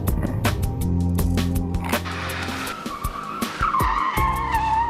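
A car skids on locked wheels during emergency braking before a sudden obstacle, loud tire noise with a rising squeal over engine rumble, continuous for several seconds with no voices.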